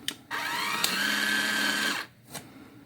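An ONEVAN cordless caulking gun runs at speed setting 6 with a steady, close mechanical whine lasting under two seconds, bracketed by faint clicks from the trigger and stop switch.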